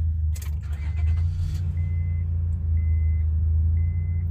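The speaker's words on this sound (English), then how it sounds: "the car started up" The 3.5-liter engine of a 2004 Honda Pilot that earlier cranked without starting now idles with a low, steady rumble, after a brief burst of clatter, and a faint intermittent tone sounds above it.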